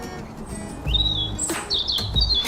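Several birds sing and chirp nearby, with bright warbling and whistled phrases over low rumbling background noise and no talk.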